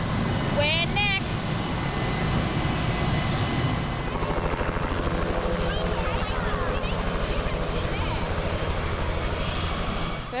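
Helicopter on a flight to Mitchell Falls along the Gibb River Road, a loud, steady rotor thump and engine drone heard from close, continuous throughout with brief high chirps and people talking over it.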